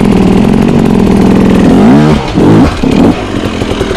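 A dirt bike engine on a ridge ride, loud and close, revs high and steady before the pitch swoops down, then surges again in two short bursts of throttle with brief dips between.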